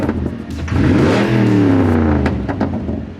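Grandpa's straight-piped Cadillac revs hard close by, its loud exhaust rising in pitch, holding briefly, then falling back to idle.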